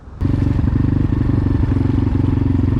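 A KOVI motorcycle engine runs on a dirt track with a loud, steady, rapid putter that starts abruptly and holds close by.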